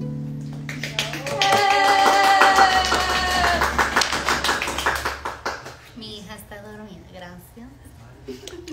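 An audience at a live concert claps softly in a steady patter beneath singing and music, and a voice then talks over the fading sound.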